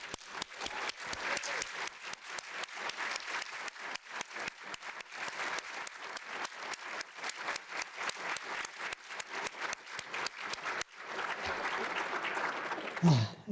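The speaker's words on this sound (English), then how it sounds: "I feel I could clap for a long time on that." An audience at an advocacy awards ceremony applauds at length in honor of civil servants, many hands clapping in a dense, steady patter that runs on, briefly dips, then resumes strongly.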